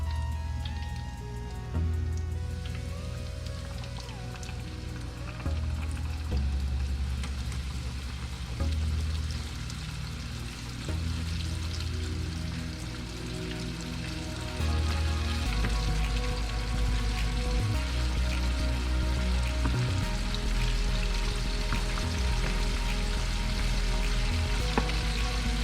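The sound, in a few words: chicken frying in oil for mustard fried chicken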